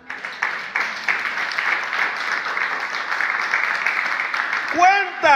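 Church congregation applauding steadily and fairly loudly for about five seconds, the dense clapping ending as a voice begins speaking.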